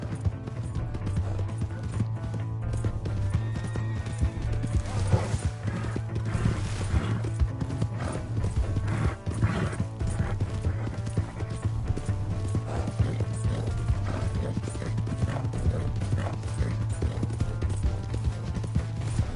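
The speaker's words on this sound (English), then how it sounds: "Hey, that's my horse!" Horse hooves clip-clopping at a steady gallop in a PS4 video game, loud and continuous throughout, layered over game music and ambient effects with occasional faint whinnies.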